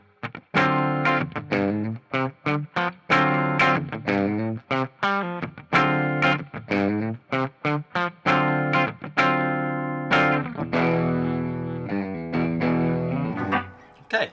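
A white 2020 Gibson 70s Flying V Classic electric guitar with very hot pickups, played loud through distortion and chorus effects in a run of driven chords and sustained notes, some choppy and some ringing out.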